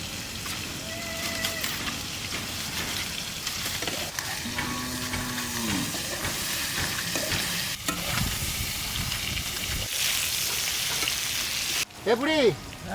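Pointed gourd (parwal) fries in a pan at a village cooking spot and is stirred now and then, with a constant soft sizzle, occasional scraping, a few other background sounds and a louder clatter near the end.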